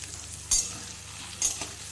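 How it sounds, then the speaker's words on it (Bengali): Potatoes and onions frying in a pan over low heat, a soft steady sizzle close by, punctuated by two sharp scraping stirs about a second apart. "দেখো, আলুটা ভাজার সাথে সাথে পেঁয়াজটা কেমন লাল হয়ে গেছে ভাজতে ভাজতে।"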